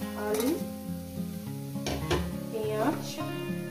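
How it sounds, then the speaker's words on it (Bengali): Potatoes and fish fat sizzling together in a pan, with steady frying hiss, stirring scrapes and utensil clinks against the pan. "এই একসঙ্গে ভাজা হবে, মাছের তেলও ভাজা হবে প্লাস আলু"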